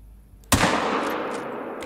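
A single sharp rifle shot in the hunting game The Hunter: Call of the Wild during a buffalo hunt, a loud crack with a long rolling echo that fades slowly, with no talk.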